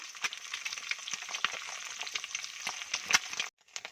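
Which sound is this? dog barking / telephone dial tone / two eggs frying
two eggs frying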